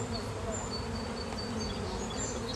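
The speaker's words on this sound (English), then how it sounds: "Honeybees" Honeybees buzz steadily at a teaching apiary, a faint, continuous swarm drone with small wing-whine rises and falls drifting over the top.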